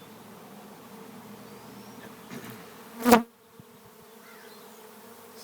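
A honeybee swarm around a hive canister during a swarm capture outdoors: a faint, constant background hum with one loud buzz as a bee flies close past, then the hum fades back to quiet.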